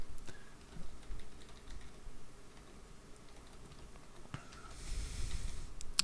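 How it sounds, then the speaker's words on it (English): Soft, irregular clicks of typing on a computer keyboard, quiet and close, with brief pauses between bursts of keystrokes. "all you're going to be doing is just typing in a basic prompt"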